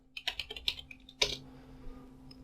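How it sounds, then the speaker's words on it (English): Several quick keystrokes on a computer keyboard typing a short word, crisp close clicks in a fast run followed by a single louder tap and quiet. "in the next 5 seconds we will type world"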